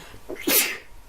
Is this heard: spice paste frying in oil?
no